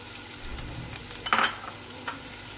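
Chicken tipped into a pan of vegetables frying for spring rolls: a quiet background hiss, then a short, brighter sizzling burst as the meat lands, fading back to a low fry.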